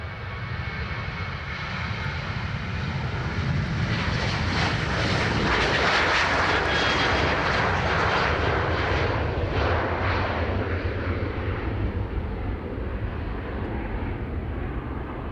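A jet airliner's engines roar steadily at Dublin Airport as it lines up and powers up on the runway, a loud continuous broadband rumble swelling and easing over about fifteen seconds.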